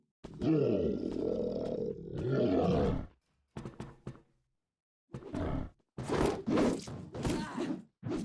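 Wolfteam video game wolf-attack roars, loud and close: a long growling roar, a second roar, short grunting bursts, then several rapid snarls near the end, with silent gaps between.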